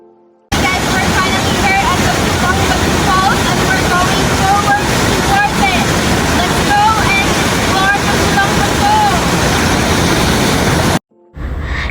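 The Pulang Bato waterfall near Davao City in the Philippines roars alongside rushing river water, a steady dense wash with wind buffeting the microphone, continuous and loud before cutting off abruptly near the end.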